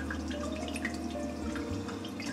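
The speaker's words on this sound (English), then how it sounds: "We have this fountain because I love falling asleep to like the sound of water." An indoor decorative water fountain in a furnished house trickles in a steady, faint stream with soft drips over a low hum of the room.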